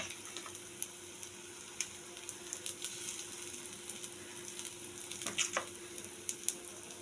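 Batter-coated food frying in a pan over low to medium heat, a steady soft sizzle with faint crackles and occasional pops, close and quiet, with no talking.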